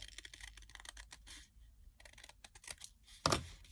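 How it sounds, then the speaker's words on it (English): Scissors snip through folded scrap fabric during lingerie making, with a run of soft crisp cuts and one sharper, louder snip near the end, close and alone. "And then I'm going to cut it when it's folded."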